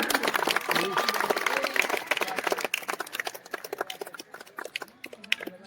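Audience at a village community event in Jalaun claps in a burst of applause, loud at first and thinning into scattered individual claps toward the end, with a voice speaking over it.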